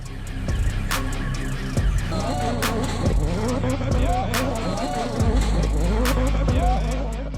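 A car engine revs and drones with sharp, repeated squealing tire chirps and sweeping pitch changes, loud and close throughout.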